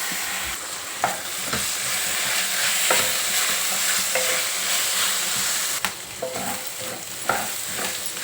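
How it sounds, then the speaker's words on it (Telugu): Moong dal frying in a pan, a steady crackling sizzle broken by occasional scrapes and taps of a spoon as it is stirred, no voices. "పెసరపప్పు మంచిగా వేగిపోయింది కదా"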